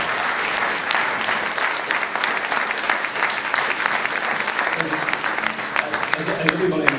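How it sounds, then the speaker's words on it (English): A room full of audience members gives sustained, loud applause for the Minister for Culture at an Irish-language Líofa presentation, dense clapping continuing evenly throughout. "So I think she deserves a big applause."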